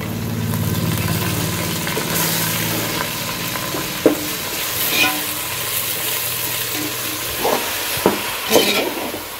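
Chicken pieces and onions frying in oil for tahari, a steady close sizzle throughout with a few sharp scraping stirs of a spoon against the pan near the end.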